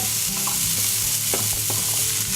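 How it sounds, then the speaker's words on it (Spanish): Bell pepper sautéing in a frying pan with a little oil, with a loud, continuous sizzle and crackle and the scrape of stirring running throughout. "en una sartén con un poco de aceite vamos a rehogar el pimiento"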